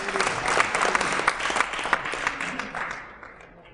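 An audience claps in a dense, sustained round of applause at a Hindi-Urdu poetry recital (kavi sammelan). It is loud and close, then thins and fades out over the last second.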